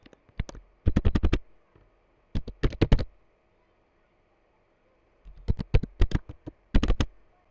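HTML heading tags being typed on a computer keyboard: quick bursts of crisp key clicks, close and clear, separated by short silences.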